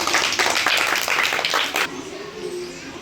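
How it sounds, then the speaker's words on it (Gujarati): A burst of lively group clapping by children in a classroom, dense and fast, stops abruptly, leaving a quiet room hum. "જોરદાર તાળી થઈ જાય"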